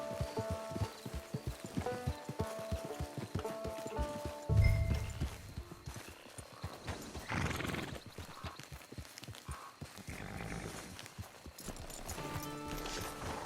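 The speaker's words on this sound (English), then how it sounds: "It's your horse." Horse hooves clip-clop on the ground in the video game Red Dead Redemption 2, a quick, even walking rhythm of moderately faint hoofbeats that fades partway through and returns near the end, with other game sounds around it.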